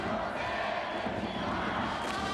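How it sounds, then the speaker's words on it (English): A loud, festive crowd at a World Baseball Classic game between Japan and Brazil in Japan makes a dense, steady roar of massed voices and noisemaking that holds from start to finish. "It's a loud crowd. It's a festive crowd if you've never been to a game in Japan."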